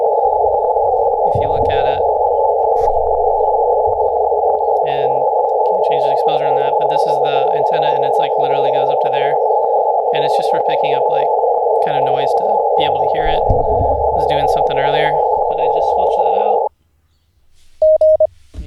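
An Icom 7300 ham radio receiver, hooked to an antenna, picks up a steady band of static noise. It runs continuously while someone talks over it, then cuts out near the end, followed by a brief short tone.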